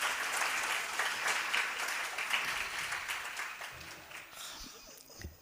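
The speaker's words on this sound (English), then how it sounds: "please give a big applause to all the participants of conference" Conference attendees applaud all the participants at a scientific conference, a sustained, moderately loud round of clapping from a seated crowd that slowly tapers and breaks into a few scattered claps near the end.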